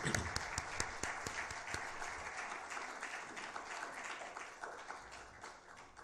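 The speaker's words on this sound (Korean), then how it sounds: "우리 큰 박수로" Congregation applause during a Sunday church service, a faint room-filling patter of many hands with a few sharp claps early, gradually tapering off.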